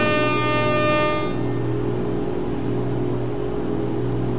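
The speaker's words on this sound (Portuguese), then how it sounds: "A buzina tá estourada, só tem a buzina marítima." A loud marine-style air horn blares for about a second over a low idling old Scania 111S truck engine, then cuts off, leaving the steady engine rumble.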